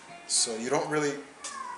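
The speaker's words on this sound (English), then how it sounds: "quit meowing, you cat" A cat meows, with a drawn-out wavering cry under a man's speech and a shorter call near the end, close and fairly loud.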